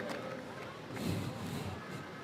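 Audience applause at an outdoor protest rally, a dense continuous clatter of clapping with crowd noise throughout, loud and close.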